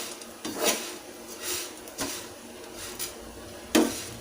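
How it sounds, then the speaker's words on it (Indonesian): A spoon knocks and scrapes against a pan while rice and kencur are stirred. There are four or five distinct clanks at uneven intervals over a quiet background, close and moderately loud, with no voices. "Kita aduk terus aja sampai berubah warna sedikit kecoklatan ya."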